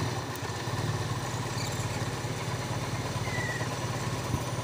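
A car engine runs cold with a hose pulled off, idling high in a steady, fast mechanical rumble that stays close and even throughout, with a light clatter on top.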